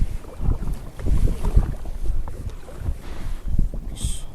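Steady wind buffeting and low rumbling water noise around a kayak fitted with a homemade rudder, paddling against the current into a slight headwind; a continuous, uneven roar with gusty swells and no talk.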